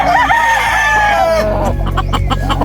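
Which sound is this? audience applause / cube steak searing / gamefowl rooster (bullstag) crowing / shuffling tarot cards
gamefowl rooster (bullstag) crowing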